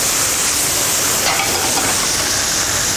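A pan of sweet potato vegetable hash topped with curly and flat-leaf parsley is stirred once, giving a steady, close sizzle and soft scraping that runs evenly throughout with no talking.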